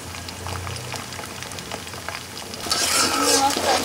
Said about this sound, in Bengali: তো এখন দিয়ে দিব হচ্ছে আমি এখানে চিংড়ি মাছগুলো।